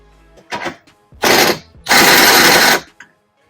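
A power tool whirs in three short, loud bursts to remove the bolts of a subwoofer box on a Can-Am, rising in length, with quiet gaps between.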